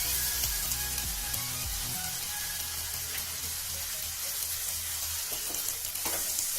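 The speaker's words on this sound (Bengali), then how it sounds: "চৌকো করে কাটা পেঁয়াজ দিয়ে আমি একটু নেড়ে নেব।" Diced capsicum and onion stir-fry gently over low heat for paneer do pyaza, giving an even close sizzle with a few soft stirring clicks near the end and no talking.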